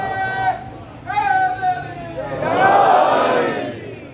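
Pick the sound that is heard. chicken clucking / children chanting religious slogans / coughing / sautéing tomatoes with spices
children chanting religious slogans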